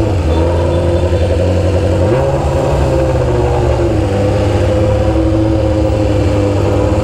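A BMW S1000RR sportbike, green, runs with a steady mid-pitched engine drone that rises in a step as the throttle is opened, then holds at higher revs, close and continuous with no talking.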